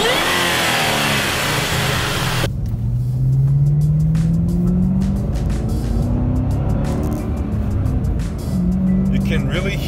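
A 2010 Ford Shelby GT500 with a supercharged 5.4-liter V8 revs up under load, a loud roar with a rising supercharger whine heard from inside the car, steady throughout, with wind noise behind it.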